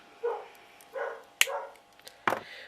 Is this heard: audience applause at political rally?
no